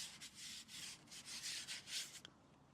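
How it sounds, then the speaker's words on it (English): A hand rubs dirt over a painted helmet piece, making soft, close scuffing and rubbing strokes in a quick, uneven rhythm. "I'm literally just going to rub my hand over the whole helmet piece"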